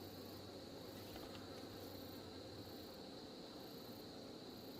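Black hornets near a high nest buzz in a steady, faint drone that hums on without pause, a distant insect hum with no voices over it.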